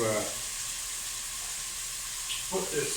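Vegetables sautéing in a pan for steak Mexicana: a steady, close sizzle throughout, with a voice speaking briefly at the start and end.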